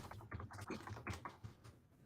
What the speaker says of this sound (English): I'm just typing terrible puns in.